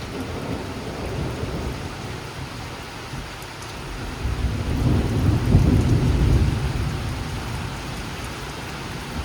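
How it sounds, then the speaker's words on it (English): Steady rain hisses throughout a thunderstorm at a lake while a deep rumble of thunder swells in the middle and slowly fades back into the downpour. "I just started recording and all of a sudden it's loud thunder."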